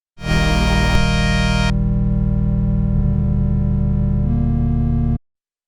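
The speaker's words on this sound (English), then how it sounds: "create a pad sound with a smooth start, a constant level, and a smooth end" A sustained atmospheric synth pad chord from Serum, using a triangle-wave sub-oscillator, holds at a steady level with a bright, buzzy edge, its timbre shifting partway through before it stops cleanly.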